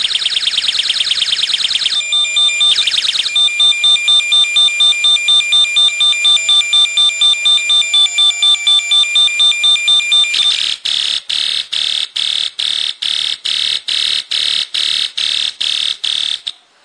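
A UM3561 melody generator IC drives a buzzer with a shrill electronic alarm siren. A warbling tone starts things off, then gives way to a fast, evenly repeating series of beeps. It is loud and close with no talk.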